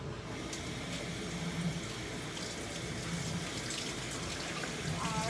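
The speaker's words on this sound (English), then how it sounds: "I'm actually going to take a paper towel to turn on the water." Tap water runs steadily into a sink, a continuous broadband splashing hiss at close range with no voices over it.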